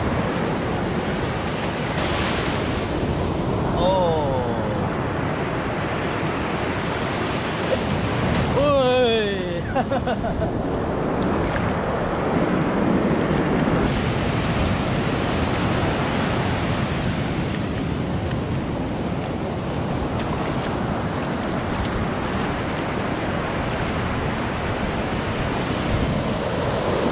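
Ocean waves surge and wash continuously onto Trinco beach in Sri Lanka, a loud, close, hissing roar with wind noise, while people talk and shout over it.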